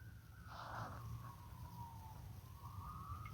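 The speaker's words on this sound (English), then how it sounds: "Yep, here goes the sirens again." Emergency vehicle siren outside, a faint distant wailing tone sweeping slowly up and down over a low hum.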